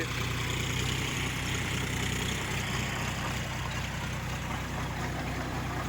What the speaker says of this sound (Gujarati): આને પોટેટો ડીગર કહેવાય બટાકાનું ડીગર એ આ રીતના ચાલતું હોય છે